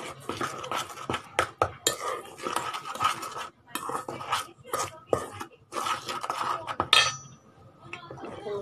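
Banana cake batter with baking powder stirred in a bowl, a spoon scraping and clinking against the sides in quick irregular bursts, close and fairly quiet, with a brief pause near the end.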